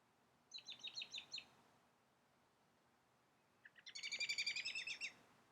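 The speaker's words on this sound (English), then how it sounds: "I hear the birds chirp." Two quick runs of high, chirping bird notes, the second louder and longer, sound over a faint background hush.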